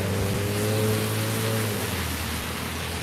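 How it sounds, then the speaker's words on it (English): Steady rain falls outdoors on a city street, a continuous loud wash of patter with a low rumble of traffic or an idling bus underneath, and no talk. "It's raining."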